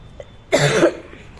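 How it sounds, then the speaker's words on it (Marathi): A single short, harsh cough from a nearby person breaks an otherwise quiet moment. "सॉरी मला जरा खोकला येतोय"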